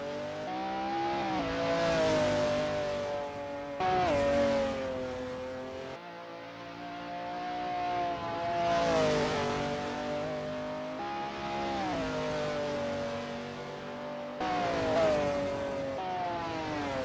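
McLaren F1 GTR race cars warming up at Sonoma Raceway, engines rising in pitch through repeated gear-shifting runs, loud and close, each climb cut by a shift.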